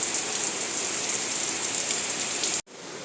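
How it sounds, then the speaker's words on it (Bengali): Heavy rain pours in a loud, dense, continuous hiss, then cuts off abruptly near the end before resuming more quietly. "হঠাৎ করে বৃষ্টি শুরু হয়ে গেল"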